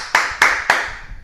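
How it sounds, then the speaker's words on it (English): Three sharp, loud hand claps spaced evenly about a quarter second apart, each close and crisp with a short ring-off, alone with no talk. "Hand clap for that"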